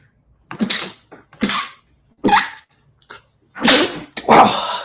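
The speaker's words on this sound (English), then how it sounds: "Sorry about the sneezing." Several loud, explosive human sneezes close to the microphone, about five separate bursts in irregular succession with short pauses between them.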